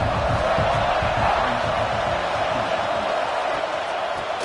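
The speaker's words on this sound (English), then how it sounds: "This crowd, full throat, sweating the eardrums and letting him know it's going to be a long day." Crowd noise from a college football video game, USC against Ole Miss, a steady broad roar of cheering fans that stays loud and even throughout with no clear break.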